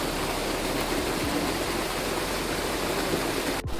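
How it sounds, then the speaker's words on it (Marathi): Water flowing out of a pond into a shallow stream, a steady, dense rushing hiss that stays even throughout, close by, with no voices. "इकडनं बघितलात तर ह्या तळ्यातनं जा पाणी येतं"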